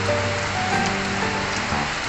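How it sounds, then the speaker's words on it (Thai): Steady rain falling on a surface outdoors, a dense, even patter that holds constant throughout without a break, heard alone with no voices. "ฝนตกพี่น้องบรรยากาศฝนตกดิน"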